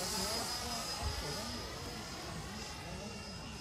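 An FMS 80mm F-86 radio-controlled electric ducted-fan jet model flies overhead in an unpainted test flight, its steady whooshing whine continuous and fairly distant.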